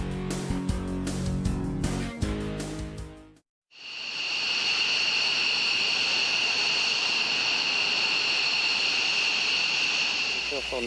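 An F/A-18 Hornet jet engine roars steadily and loudly after a brief silent break, a sustained high-pitched whine over broadband rumble; music plays before the break.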